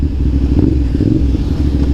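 A CFMOTO 450 SR motorcycle engine rumbles low and steady while riding through a city at night, a constant close drone with slight flutter.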